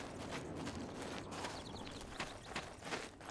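Horse hooves clip-clop in the Oblivion video game, a faint run of quick, uneven hoof strikes under a wash of steady background noise.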